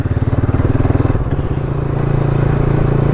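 Honda NS 200 motorcycle fitted with a changed aftermarket exhaust, idling with a steady throbbing pulse and then revving up into a sustained, deeper drone, close and loud with no talking.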